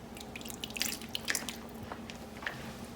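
Cornstarch dissolved in cold water is poured into a pot of soup and stirred, giving soft, quiet drips, splashes and small squishy liquid sounds in a quiet kitchen, with no talking.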